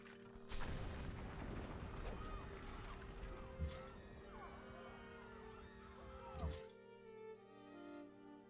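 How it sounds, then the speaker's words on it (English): Ranged units bombard a city in Civilization 5 with muffled booms and crashes over a sustained rumbling battle mix, a couple of heavier impacts standing out against steady game music tones. "Bombard Busan a bit more."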